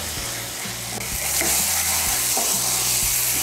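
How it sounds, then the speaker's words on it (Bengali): Spice paste (masala) frying in a pan for a Bengali dish, a loud continuous sizzle with stirring scrapes and knocks recurring every second or so, close up and without talk. "এখন আমি মশলাটাকে ভালো করে কষিয়ে নেব।"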